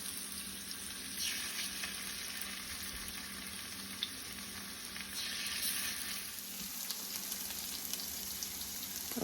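Salmon fillets sear in a pan over medium heat, cooked in batches, giving a continuous, even sizzle that stays fairly quiet and steady with no voices.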